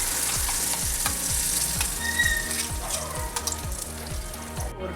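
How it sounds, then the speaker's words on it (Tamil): Ground spice paste hits hot tempered oil in a pan for an egg curry, giving a loud, continuous sizzle and crackle with scattered pops, over a steady rhythmic mechanical hum in the background. "இனி அரைச்ச விழுத இதில் நம்ம போடலாம்."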